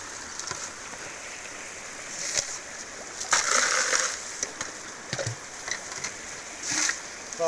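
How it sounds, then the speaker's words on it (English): A long yabby pump draws water and gravel from a gold-prospecting hole at Star Creek, making intermittent wet sucking gulps and splashes with a brief louder surge midway, close and fairly quiet. "We'll yabby pump this out and see how we go."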